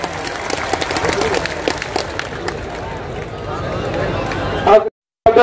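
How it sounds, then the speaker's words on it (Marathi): Applause from a crowd at an outdoor wrestling dangal, a steady dense clapping wash with crowd noise that carries on for about five seconds, then breaks off abruptly into a short silence near the end. "एकदा जोरदार टाळ्या वाजवून त्याच्यासाठी अभिनंदन करा"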